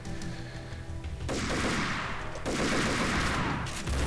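Sustained gunfire in Max Payne 2 (Old School Mod) as a player fights out of a sealed arena level, with dense overlapping shots building into a loud, continuous fusillade after a quieter opening.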